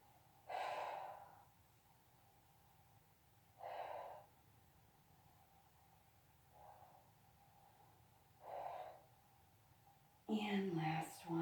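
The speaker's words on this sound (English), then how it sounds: "Inhale and exhale." Slow, steady breathing from someone exercising with a towel, four soft breath bursts spaced a few seconds apart over a quiet background, followed by a brief louder burst at the end.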